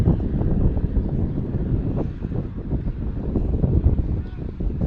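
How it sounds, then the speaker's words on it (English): Wind buffeting a microphone at an outdoor high school boys' soccer game, a loud low rumbling roar that surges and dips, with a commentator's voice partly mixed in. "the wind sure is a factor here today, Kevin"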